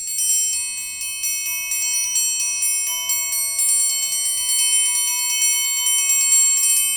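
Triangle struck with two beaters in quick, fairly complex rhythms, a steady stream of bright, ringing metallic hits with overlapping sustain, close and clear with no talking.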